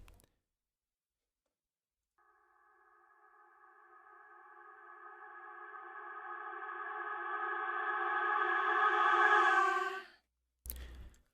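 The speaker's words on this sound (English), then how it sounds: "now we've got a nice reversed reverb" A reversed reverb sweep made in Ableton Live: a tonal wash swells slowly from silence to a peak and then cuts off abruptly, followed by a brief sharp click.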